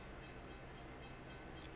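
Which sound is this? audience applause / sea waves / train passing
train passing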